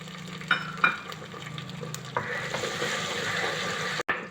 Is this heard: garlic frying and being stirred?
yes